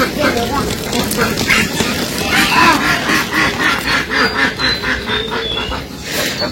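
Restless ducks quacking in a flock while waiting to be let out on a foggy morning, dense overlapping calls close by throughout, with some human sounds mixed in.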